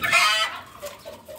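A few chickens cluck close by at feeding time in a home setting, a quick burst of sharp calls followed by softer, scattered clucks.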